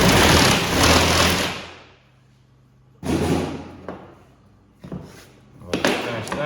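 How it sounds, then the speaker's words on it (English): A hand saw cuts through the shoulder blade bone of an Ossabaw/Mangalitsa pig in rough, grinding back-and-forth bursts. The sawing is close and loud and stops for pauses between strokes. "Grab our saw."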